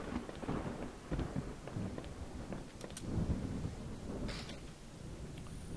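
Rain falling steadily with low thunder rumbles in the game Home, a dark backyard scene; a broadband wash of rain runs throughout, with brief sharper crackles and a distant rolling rumble, no voices.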